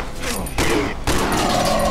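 Gunfire in the horror video game Cry of Fear comes as two or three loud, closely spaced blasts with a rough noisy tail over a couple of seconds.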